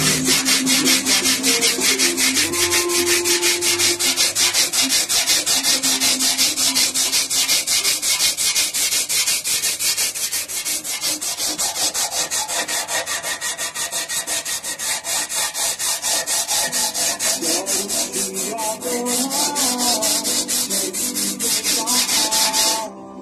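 Body filler on the fuel tank of a 2012 Fan 125 motorcycle is sanded by hand in fast, steady back-and-forth strokes, a loud, continuous gritty rasp that runs without pause.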